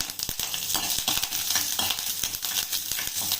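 Mustard seeds and urad dal dropped into hot oil for tempering pop and crackle in quick, irregular bursts over a continuous sizzle, close by, with no talking.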